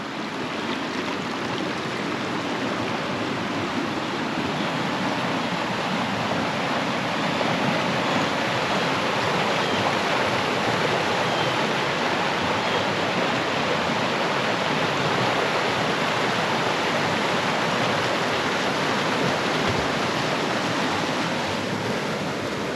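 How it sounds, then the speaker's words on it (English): A flooded creek running high after heavy rain, rushing like a raging river in a steady, dense roar that stays loud and close throughout, with no talk over it. "Crazy how fast this creek goes from being completely dry, no water in it for months and months and months, to now it's a raging river again."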